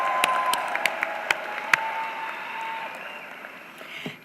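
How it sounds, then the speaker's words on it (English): Sparse, scattered claps rise into a soft wash of applause from graduates at a University of Central Florida commencement ceremony, moderately distant, with a steady murmur underneath. "I think you should applaud yourselves."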